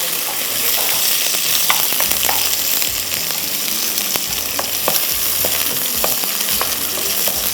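Onions fry and brown in hot oil in a pan for tarka chawal, a loud steady sizzle with occasional stirring scrapes and clinks throughout.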